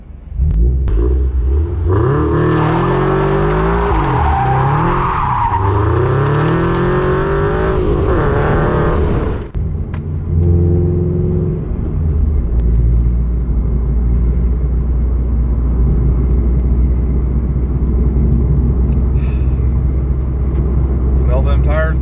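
A Scion FR-S revs hard with rising and falling engine howls while its tires spin and burn, then settles into a loud steady idle rumble; voices are heard over parts of it.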